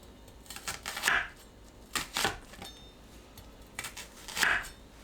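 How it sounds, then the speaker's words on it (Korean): A knife cuts washed new-season onions into quarters or eighths on a board, making a few sharp, close chopping knocks spaced a second or more apart, with quieter handling noises between. "크기에 따라 4등분에서 8등분 해주세요."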